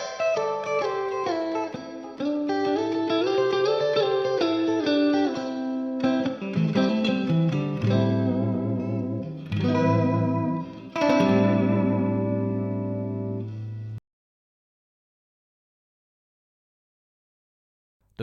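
Electric guitar plays pentatonic runs sliding across two strings at a time, a string of gliding notes through effects with some echo, then stopping abruptly into silence for the last few seconds.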